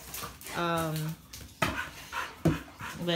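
Dogo Argentino dogs play close by indoors on a slippery floor, giving a drawn-out whimpering whine, quick panting breaths and short sharp yips, with a person talking over them.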